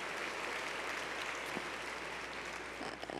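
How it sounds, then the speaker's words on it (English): Steady applause from a large conference audience at a closing plenary fills the whole stretch, even and sustained, with no voices above it. "please give yourselves a round of applause"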